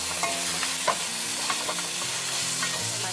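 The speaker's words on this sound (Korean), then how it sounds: "멸치 이렇게 넣어갖고 버무려 주시면 돼요" Anchovies being stir-fried in a spicy sauce, a steady close sizzle with scraping and tossing sounds from a spatula in the pan, no voices.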